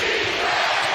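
Basketball arena crowd on its feet cheering at an Oklahoma City Thunder game, a dense, steady roar filling the whole short moment with no break.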